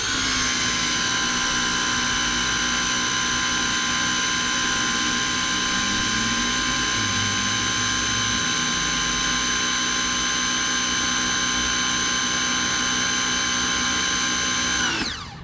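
A Ryobi automotive pressure washer runs loud and steady at close range, holding a constant high-pitched motor whine with a dip partway through, then cuts off abruptly at the end. No voices.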